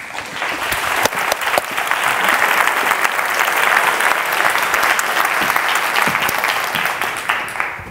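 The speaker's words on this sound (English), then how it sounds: "please give her an extra round of applause" A room full of people applauds, steady dense clapping that swells slightly in the middle and keeps going throughout.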